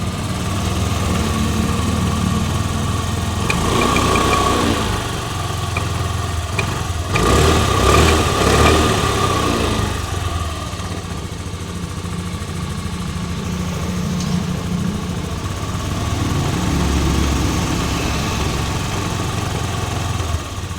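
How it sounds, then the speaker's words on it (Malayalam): An old vehicle's engine runs steadily and smoothly nearby, a continuous low idle hum with a couple of brief swells in revs, heard alone without talk. "എൻജിനൊക്കെ സ്മൂത്ത് എൻജിനാണ്"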